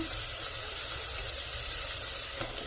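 Spices roasting in a hot pan give a loud, steady sizzle and hiss with faint stirring scrapes, continuous and close, with a slight shift near the end.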